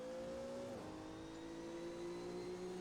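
A Renault Megane Trophy race car in a racing video game accelerates at Road America, its engine whine climbing steadily after a brief gear-change dip, loud and alone.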